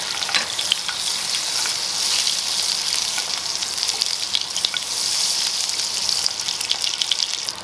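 Steady, crackling sizzle of clarified butter and butter frying in a hot pan, continuous and close, with occasional sharper pops.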